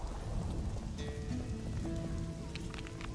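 Steady rain in The Witcher 2: Assassins of Kings, a constant wash of falling water with faint distant thunder and brief game tones, with no talking.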